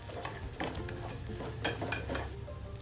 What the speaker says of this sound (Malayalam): ഇനി ഈ റൈസ് നന്നായിട്ട് ഇതിൽ മിക്സ് ചെയ്യാം.